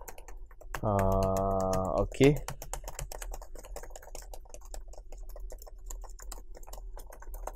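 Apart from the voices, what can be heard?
typing on a computer keyboard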